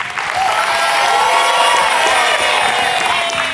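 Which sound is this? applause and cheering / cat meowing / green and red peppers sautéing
applause and cheering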